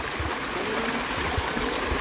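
Steady rushing of a rain-fed water stream flowing continuously, with low gurgling pulses underneath; no voices.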